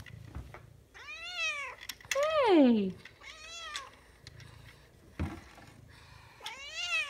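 A cat meows several times up close, one long drawn-out cry sliding downward, while a person speaks briefly between the calls.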